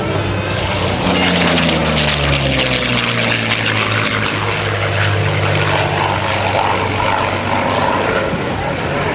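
A vintage propeller aircraft, one that once served as a light bomber and now carries a passenger in the back seat, roars loudly nearby at an airshow, its engine tone sliding in pitch over a broad, continuous rush.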